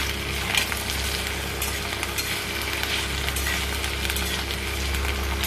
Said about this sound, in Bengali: খুব ভালোভাবে নাড়াচাড়া করে লাল লাল করে ভেজে নেব এটাকে।